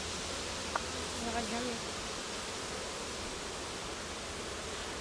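Honeybees buzz in a dense, steady hum at an opened beehive in a Toulouse apiary with children present, broad and even throughout, with a brief faint voice-like sound early on.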